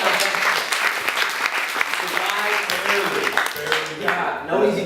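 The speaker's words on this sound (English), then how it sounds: "another round of applause for making it here tonight" Studio audience applause on a late-night talk show, loud and close, with full crowd clapping throughout while voices talk and call out over it toward the end.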